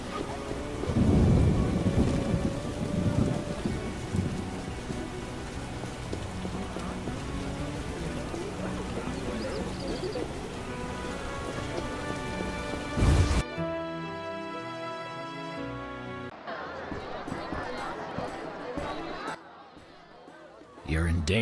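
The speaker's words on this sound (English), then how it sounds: "Some rain." Steady rain with rolling thunder in the video game The Witcher fills the scene, a loud crack near the middle, then a shift to synthetic game ambience with faint voices.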